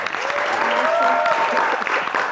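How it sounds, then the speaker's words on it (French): A studio audience breaks into a warm, sustained round of applause for a children's reading project, even and continuous, with a voice faintly audible through the clapping. "J'ai envie qu'on applaudisse pour Rwanda Book Mobile."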